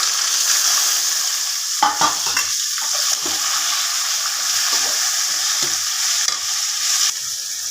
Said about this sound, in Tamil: எண்ணெய் ஊற்றி பட்டைலாம் போட்டிருக்கேன் கடலைப்பருப்பு உளுத்தம்பருப்பு போட்டுக்கலாம் வெங்காயம் தக்காளி பச்சை மிளகாய் போட்டுக்கலாம்